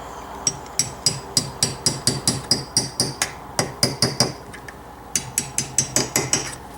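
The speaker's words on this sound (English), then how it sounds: "Might have to give it a couple taps with a hammer or a punch." Quick, sharp metallic hammer taps tapping a crankshaft key into place on a PW80 engine, in rapid bursts, about two dozen strikes with a brief pause midway, close and ringing.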